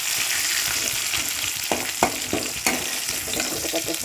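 Garlic and ginger sizzle steadily in a hot pan, a constant close frying hiss broken by a few sharp scraping stirs.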